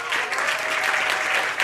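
A roomful of guests at an awards gala applauds, a dense and even burst of clapping that holds steady from start to finish.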